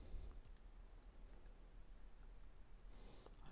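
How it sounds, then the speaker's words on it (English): Password being typed on a computer keyboard, a run of quiet, fairly even key clicks heard faintly and alone over a low hum. "let's type the password"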